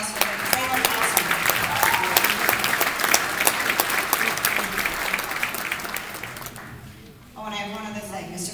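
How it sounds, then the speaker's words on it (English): An audience at a school event gives a sustained, loud round of applause for Kathy Wellman, dense clapping filling several seconds before it breaks off and a voice begins speaking. "And another round of applause for her."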